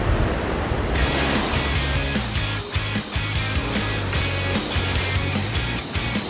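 Ocean surf breaking on a beach where surfers ride waves, a steady loud wash of crashing water with rhythmic surges and low rumbling, no voices.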